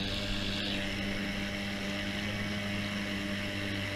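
A small boat's outboard motor runs at about half throttle, a steady droning hum with a constant pitch that holds unbroken and loud throughout.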